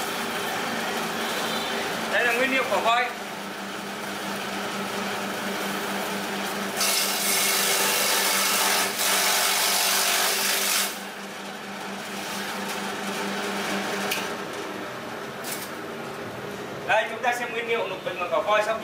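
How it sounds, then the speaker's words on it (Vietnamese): A TK1800 multi-purpose chopping machine shreds water hyacinth and elephant grass, a steady mechanical drone and rattle with louder grinding bursts as material is fed in, running throughout. "Bây giờ chúng ta sẽ test máy TK1800"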